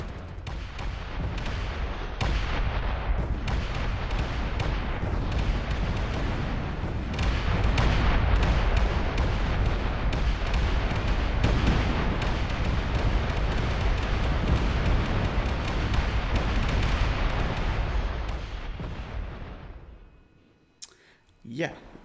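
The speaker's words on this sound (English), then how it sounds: "the ship's full of explosions, explosives now, and soon to be explosions" Continuous rolling explosions and crackling blasts of a cargo ship blowing up in the game Space Engineers roar for about twenty seconds, dense and loud, then fade out abruptly into near silence.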